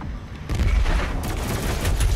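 Stationary gun turret in Doom Eternal firing a rapid, continuous burst of heavy gunfire, loud and dense, jumping in intensity partway through and sustained to the end with rumbling low booms.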